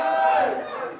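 A concert crowd at a gig in Tamworth cheers and shouts for another song, a loud swell of voices that peaks early and then gradually fades.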